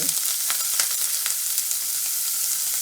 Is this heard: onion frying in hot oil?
yes